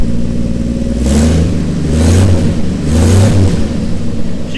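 The engine of a 1955 Chevy 3600 truck revs close up, loud and rough, swelling and easing in several throttle blips over a steady running rumble.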